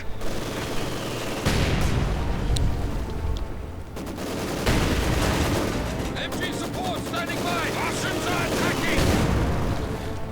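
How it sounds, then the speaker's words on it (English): Mortar fire mixed with gunfire in the World War II strategy game Company of Heroes 2, rapid bursts and repeated explosive thuds filling the scene, with a commentator speaking over the battle. "Lots of mortaring going on here."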